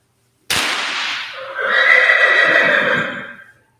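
A horse at a riding horse sale lets out a loud, close whinny that starts with a sharp burst and rises into a long, shrill, wavering neigh before cutting off.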